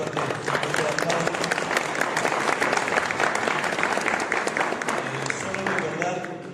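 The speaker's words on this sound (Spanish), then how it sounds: "le despedimos un fuerte aplauso" An audience at a cardiology workshop breaks into sustained, even applause that stays loud and dense throughout, with a faint voice or two mixed into the clapping.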